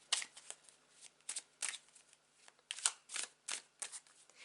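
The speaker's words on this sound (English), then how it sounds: "Let me grab the tarot to clarify those messages." Tarot cards shuffled by hand in a quiet room, a run of crisp riffling bursts in irregular rhythm, close and fairly soft, with no talking.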